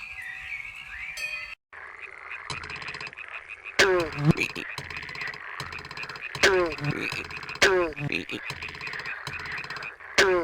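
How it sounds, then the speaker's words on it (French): Cartoonish frogs in a forest level of a video game croak repeatedly in loud, close bursts over a busy, steady game soundtrack. "les grenouilles vont peut-être t'aider"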